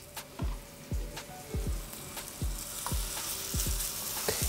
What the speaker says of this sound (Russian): когда вы жарите утиную грудку, не лейте на сковородку масло